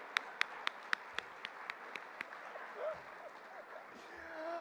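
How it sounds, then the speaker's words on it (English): An audience at an annual dinner applauds, a handful of distinct, fairly distant claps that build into a soft, scattered round of applause in a large room, with faint voices underneath. "Just give everybody a round of applause right there."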